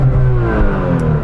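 A sports car engine revs hard and close to almost 9,000 RPM, a dense throaty roar held briefly at high pitch.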